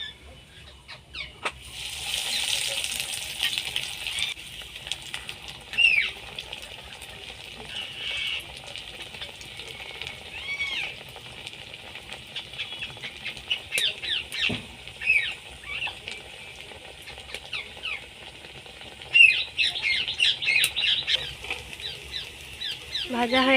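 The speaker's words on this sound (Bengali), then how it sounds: "এবার এইভাবে আমি সবগুলো ভেজে নেব।" Soybean cutlets frying in a pan make a steady crackling, spitting sizzle that runs throughout, with bursts of louder popping and a voice talking intermittently over it.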